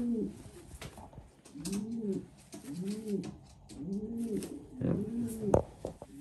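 Pigeons coo in a breeding loft during pairing season, giving soft, rolling, repeated coos at a steady pace, close by, with faint background rustling.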